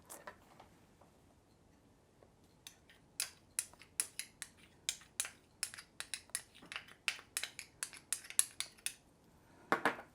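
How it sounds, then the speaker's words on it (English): A utensil mixing cornstarch into jam in a bowl for sweet empanada filling, with a quick series of light, close clinks and scrapes against the dish, irregular at first and then denser, with no talking. "We want to mix really good."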